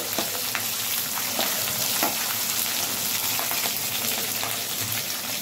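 Curry leaves, turmeric and poha seasoning fry steadily in a hot pan, a continuous crackling sizzle with occasional sharper pops and stirring scrapes, close and alone without talk.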